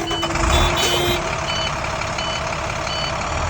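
Diesel truck engine running after start-up to build air-brake pressure to 120 psi, a steady low rumble with a faint repeating higher whine on top, close and fairly loud.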